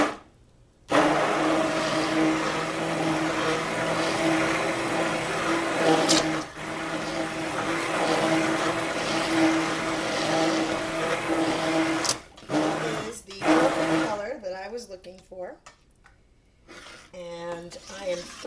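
A blender whirs steadily through guava-scented cold process soap batter, a loud continuous motor drone that cuts out briefly a couple of times before stopping near the end as a voice speaks.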